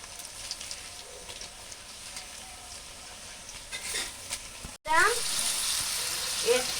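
Meat is dropped into a pan of browned onions for biryani. A soft, low sizzle runs until a brief cutoff, then a much louder, crackling burst of frying takes over and stays strong.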